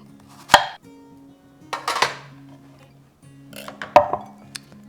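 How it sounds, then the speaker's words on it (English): Apples being chopped on a cutting board, three sharp knife strikes spaced apart, each a crisp close thud with a brief crackle, over faint kitchen hum. "Here's our apples, all nice and chopped up"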